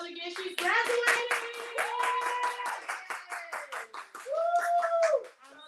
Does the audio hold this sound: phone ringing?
no